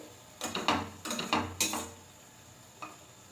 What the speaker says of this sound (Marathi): छान असा तेल तेलात आणि बटरमध्ये छान हा मसाला मस्त असा परतून घ्यायचा आहे